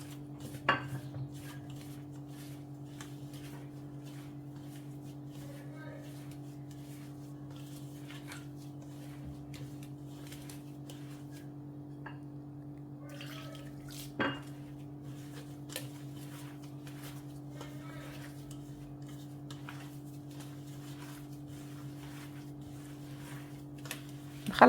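Bran being mixed with water in a bowl, soft repeated scraping and clinks of a utensil against the bowl over a steady low background hum, fairly quiet with a few sharper knocks.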